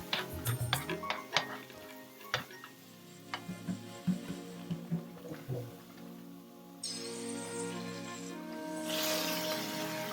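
Ingredients including cauliflower rice are stir-fried in a hot wok, with irregular clanks and scrapes of a utensil against the pan, followed by a rising steady sizzle near the end.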